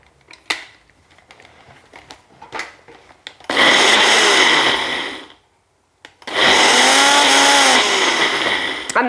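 A kitchen blender whirs loudly through chickpeas and hot water for hummus in two long bursts, each a steady high-pitched grinding roar, with a short silent pause and light clicks between them.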